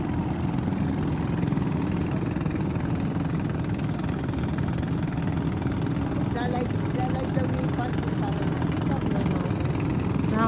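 Fishermen's boat engines drone steadily on Manila Bay near the beach, a continuous low rumbling motor noise with faint voices in the background.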